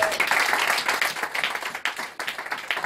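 Congregation applauding in a church, a dense, steady wash of many hands clapping that swells and dips over a few seconds.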